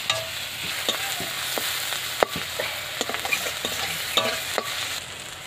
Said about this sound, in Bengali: এবার পেঁয়াজটা ভাজা হচ্ছে